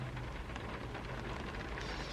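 Heavy rain pouring down as a steady, dense hiss that fills the whole stretch without a break.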